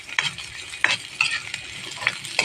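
Ginger stir-fries in a pan as the base for squid adobo, giving a soft sizzle under repeated scraping and stirring strokes at an uneven rhythm, close by, with no talking.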